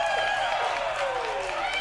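A studio crowd cheers and applauds at a movie trivia competition event, a dense wash of clapping and whooping with a rising whistle-like voice sweeping through it.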